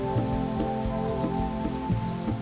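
A heavy rain downpour drums steadily on surfaces at a primate park, close and continuous, with no voices.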